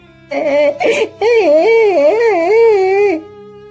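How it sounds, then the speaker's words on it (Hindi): A boy character in a Hindi cartoon moral story cries: a sustained, wavering, tonal wail with a short sobbing break near the start, loud and close, lasting about three seconds with no speech over it. "अरे ये रोने की आवाज किसकी है?"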